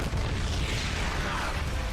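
In StarCraft II, explosions rumble in a dense, continuous, booming wash of low noise with overlapping bursts, loud and unbroken throughout.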